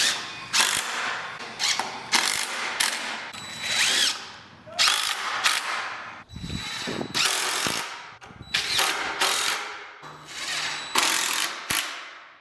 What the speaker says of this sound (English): Enough of that obnoxious drill for just a minute.